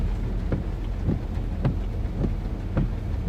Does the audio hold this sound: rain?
yes